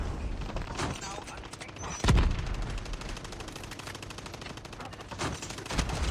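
Rapid turret gunfire from the Call of Duty Mobile Undead Siege mode: a dense, steady rattle of shots with one sharp heavy blast partway through, continuing to the end.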